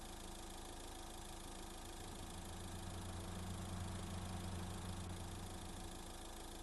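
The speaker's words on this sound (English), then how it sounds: "Start the engine." A road maintenance vehicle's engine in Road Maintenance Simulator hums at a steady idle, a quiet, even drone with low tonal harmonics and no voices.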